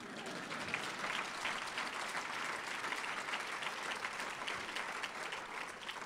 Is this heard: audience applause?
yes